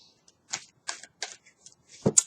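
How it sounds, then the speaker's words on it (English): A handful of short, sharp card-shuffling riffles and taps from a tarot deck, spaced irregularly in near silence, close and crisp with no talk. "while I'm shuffling the cards, you bring the cards out"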